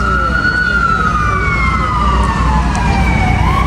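Emergency vehicle sirens wail along New York City streets, a steady rising-and-falling tone over constant traffic rumble, loud and continuous through the whole stretch.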